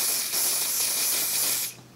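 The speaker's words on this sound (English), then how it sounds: "So I'm just gonna spray this down." Olive oil wig grip spray hisses from a can onto hair at the roots, one steady close spray lasting more than a second before it stops abruptly.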